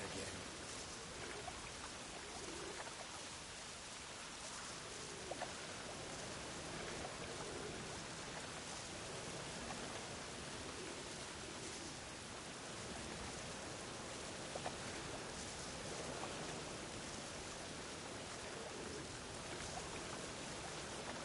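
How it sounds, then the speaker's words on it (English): Steady rain in The Witcher 3 open-world game, a dense, even hiss of falling water that runs unbroken and fairly soft throughout, with no voices. "Witches have conjured rain again."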